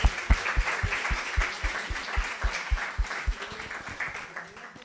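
An audience breaks into applause at a book-related gathering, with a few loud, sharp, fairly regular claps up close over a softer spread of clapping from the crowd behind.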